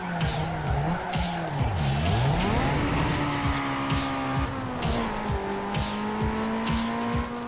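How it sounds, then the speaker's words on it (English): Tires squeal through a long drift in the Need for Speed Underground 2 racing game, the car engine droning and shifting pitch beneath a continuous loud screech. "I'm going to do this drift"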